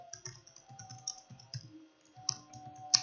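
Typing on a computer keyboard, a quick irregular run of close, crisp key clicks with a few louder taps and brief pauses, no voices over it.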